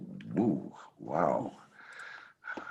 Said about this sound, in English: If you hear grunting in the background, my dog is acting up.